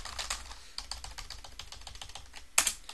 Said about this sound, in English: if I was to run this and I was to type out a bunch of stuff